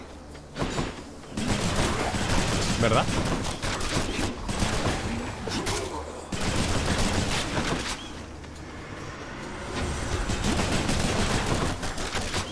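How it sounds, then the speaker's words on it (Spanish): Dense bursts of rapid explosions and gunfire-like blasts from the Hades video game, loud and sustained across the scene with brief lulls, and a voice briefly speaking over it. "Y al aplicar 10 cargas, creo una explosión."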